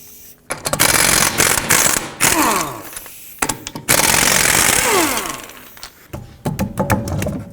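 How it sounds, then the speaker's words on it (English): A ratchet with a 19 mm socket working the lug nuts off a 2007-2009 Saturn Aura wheel: loud, close bursts of rapid clicking and whirring broken by short pauses, with no talk. "go ahead and take off the lug nuts with a 19 millimeter"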